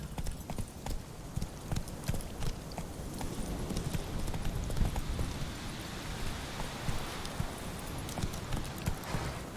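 Roach, a horse in The Witcher 3, gallops with rapid, continuous hoofbeats, close and steady, over a low rumbling background.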